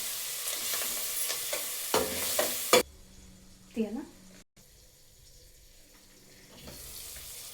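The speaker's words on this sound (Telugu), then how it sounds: "అన్నం వేసుకొని కలుపుకుందాం" Cooked rice is stirred into tomato masala in a pan, giving short scraping and sizzling bursts early on, then quieter stirring with a faint background hum.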